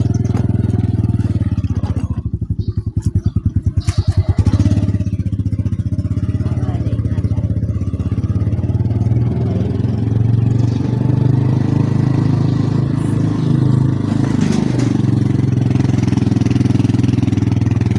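A motorcycle engine runs steadily and loudly while parked near the Lipa public market in Batangas, with a short burst of rattling revs early on before it settles back into a constant rumbling idle.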